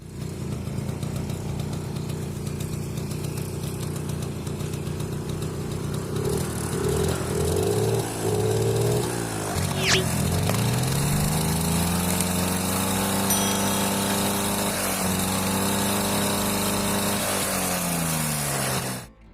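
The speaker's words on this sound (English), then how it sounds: "Please welcome the Honda Motocompo scooter." A Honda Motocompo scooter's small engine idles steadily, then its pitch rises and holds at a higher buzzing speed before cutting off at the end.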